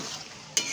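Boiled mung dal is stirred with spices and eggplant in a hot pan, with a brief soft sizzling scrape and then a sharper clack of the spoon near the end.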